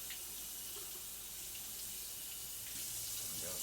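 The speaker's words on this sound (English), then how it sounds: "Give the board a rinse too" Tap water runs steadily into a kitchen sink as a cutting board is rinsed, a continuous close splashing hiss with slight shifts in the flow.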